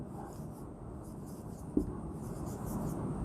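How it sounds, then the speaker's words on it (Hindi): A sentence written by hand makes faint, quiet scratching strokes against a low background hum, with one small tap partway through. "फॉर एग्ज़ाम्पल एक सेंटेंस में लिखता हूँ"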